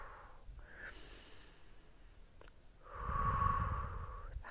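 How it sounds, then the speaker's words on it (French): Slow, deep breaths during a beginner stretching routine, a soft breathy exhale followed by a louder, longer rushing breath, close and quiet with no talking. "On inspire maintenant, on lève les épaules et on expire, on les descend."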